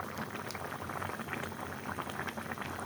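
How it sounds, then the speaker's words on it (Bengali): Pangash fish curry with pre-fried fish simmers and cooks down on a stove, a steady bubbling, sizzling wash of liquid that holds at an even level throughout, with no talking. "আর একটু থাকবে চুলায়। মাছ তো এমনিতেই ভেজে নিছি, তো ভালো করে একটু কষানো হবে"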